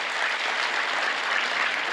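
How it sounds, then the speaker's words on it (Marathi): An audience claps steadily for the sound crew at a live poetry event, a dense, continuous wash of applause from a crowd heard throughout with no voices over it. "जोरदार टाळ्या साऊंडवाल्यांसाठी वाजवा"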